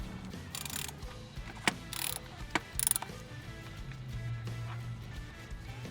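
A ratchet clicks in short bursts while loosening a 10mm nut on a Chevy Silverado intake manifold, with scattered metallic taps between the runs of clicks.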